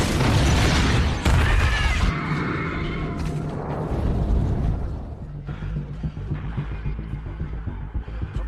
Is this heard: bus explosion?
yes